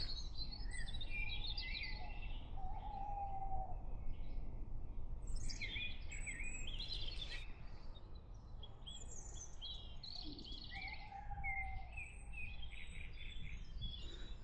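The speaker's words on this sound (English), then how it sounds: "Dawn chorus. And an owl hooting." Dawn chorus in an urban woodland: many small birds chirping and trilling steadily at mid distance, with a low hooting owl call rising briefly twice over the chatter and a soft outdoor hiss underneath.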